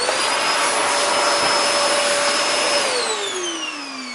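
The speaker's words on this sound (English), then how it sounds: "you may use your vacuum cleaner with some special brush on top" A vacuum cleaner with a brush attachment runs loud and steady while cleaning a felt cat cave, its pitch dropping near the end as the motor winds down, with no talk.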